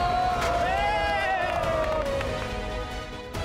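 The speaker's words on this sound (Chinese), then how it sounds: "跟着当地人的欢呼，领略这里的足球精神" Local football fans in Argentina cheer and shout together, a lively crowd roar with a sustained chant-like voice rising above it and general hubbub underneath, fading slightly at the end.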